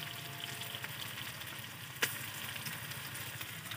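Pancit miki noodles with oyster sauce sauté in a hot pan, giving a steady, even sizzle throughout with one sharp clink of a utensil partway through, close and fairly quiet.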